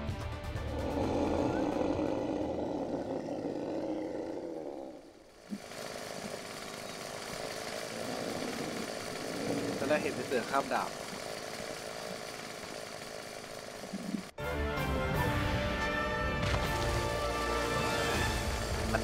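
Chainsaw-like revving whine in the Final Fantasy XIV Doma Castle dungeon, loud and sustained across the clip, mixed with game music and effects and broken by a short gap around five seconds.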